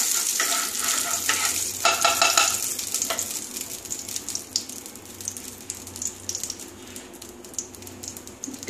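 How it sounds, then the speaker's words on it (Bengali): Mustard oil heats and sizzles in a pan with a steady bright crackle, joined early on by a few stirring scrapes and clatters, then settling into even, fairly close frying hiss with no voices. "দু চামচের মতো সর্ষের তেল দিলাম। তেলটা একটু হয়ে যাক,"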